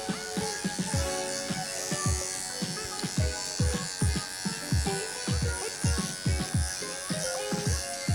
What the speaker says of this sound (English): I'm pivoting my clippers a little bit so that I'm blending as I go.